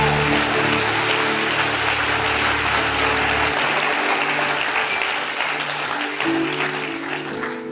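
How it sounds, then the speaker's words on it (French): A church congregation applauds at a worship service, producing a dense, steady wash of clapping for the whole stretch, with a low sustained musical hum underneath that drops out partway through. "Acclame, acclame, acclame le Seigneur"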